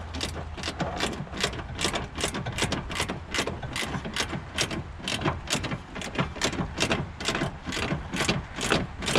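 A socket ratchet clicks in quick, steady repeated strokes while tightening a horn bolt on a 2006-2011 Toyota Camry, the close pawl clatter continuing throughout with no talk.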